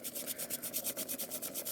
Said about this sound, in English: we're just going to take and grate up some ginger.